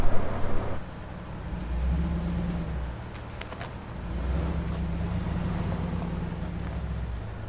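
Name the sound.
vehicle started and reversed back onto road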